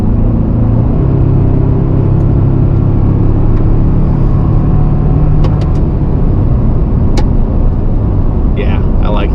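A 2024 Toyota Tacoma truck with an Overland build accelerates up to speed, its engine and road rumble loud and steady from inside the cab, with someone talking over it.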